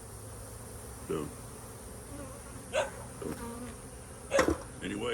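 Honeybees buzz steadily around a nuc box on a tree, a soft, constant hum of many insects close by with a few louder passes near the microphone, and a brief word of speech.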